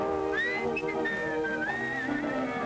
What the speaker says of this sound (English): When you hear me whistle, whistling down the lane for you.